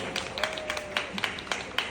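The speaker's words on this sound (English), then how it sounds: "Can we give Skinplicity a big round of applause?" Scattered audience clapping at a skincare clinic grand launch in Cebu, sparse individual claps with a faint murmur and a voice underneath, fairly quiet and distant.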